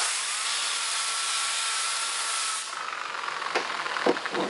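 Compressed air blasts from an air nozzle to clean a Mustang part, a close, loud, steady hiss that drops after a few seconds into short, sputtering puffs.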